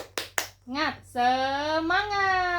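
A teacher leads a classroom clapping chant: two sharp, quick hand claps, then a single drawn-out, sing-song shouted word from a voice.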